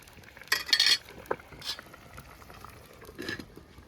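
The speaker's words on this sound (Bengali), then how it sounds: "মাছটা অ্যাড করার পরে এখন আমি নাড়িয়ে হালকা এবার আমি ঢেকে দেবো।" Fish curry stirred in a pan before being covered, with a few close scraping strokes and light clinks over a soft bubbling simmer and no talk.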